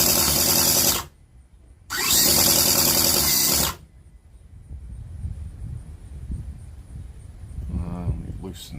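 Cison V8 model engine kit running in two loud buzzing bursts with a short gap between, then cutting out to a quieter stretch of faint rumbling and handling noise.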